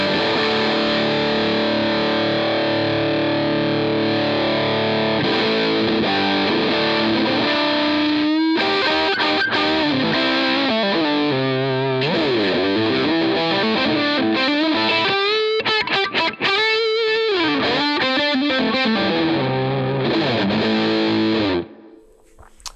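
An electric guitar runs through a gain pedal with the drive turned all the way up into a Vox AC30, loud, saturated and continuous, with chords and riffs played alone for about twenty seconds before cutting off.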